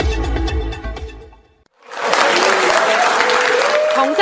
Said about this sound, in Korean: 정상회담 후 첫 청와대 회의에 나온 문 대통령을 참모들은 기립박수로 맞았습니다.